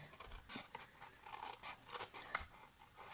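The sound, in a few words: cutting away sections of paper card holder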